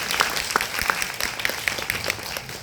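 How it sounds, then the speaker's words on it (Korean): Scattered applause from an audience of students at a university talk concert, honoring a company chairman; sparse, uneven claps at moderate distance. "우리 회장님께 박수 한번 부탁드리면 어떨까요"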